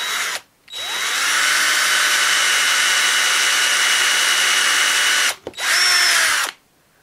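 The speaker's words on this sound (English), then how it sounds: "I'm going to drill very slightly off center." A power drill bores into wood while building a gaming table, running in a loud, steady whine for about five seconds, then a short pause and a final brief burst.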